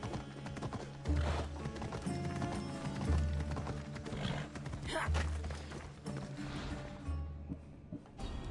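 Horse hooves clip-clop steadily in the video game Assassin's Creed Odyssey, a repeating galloping rhythm at close range with some background game sound throughout.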